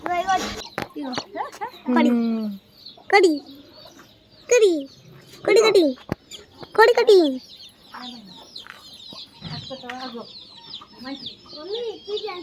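A young chick, caught and handed to a child on a farm raising fighting roosters, chirps in short, sharp bursts nearby, interspersed with other fowl calls and voices.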